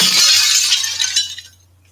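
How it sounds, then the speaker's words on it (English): Breaking glass crashes and then tinkles away as shards settle, bright and close, fading to quiet over about two seconds above a faint steady hum. "We're gonna break the glass one more time."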